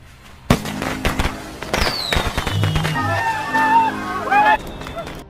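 Fireworks crack and burst in a rapid series, with whistling trails rising and fading between the bangs, fairly close, while voices talk and exclaim underneath.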